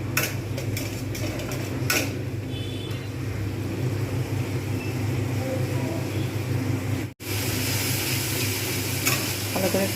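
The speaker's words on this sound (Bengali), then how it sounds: "ভালো করে কষবো যতক্ষণ পর্যন্ত না তেল ছাড়ে কষতেই থাকবো এখন" Crushed whole garam masala frying and being stirred in oil in a pan for a Bengali lau ghonto with rohu fish head, a steady close sizzle with scraping stir strokes and a brief dropout near the end, faint voices underneath.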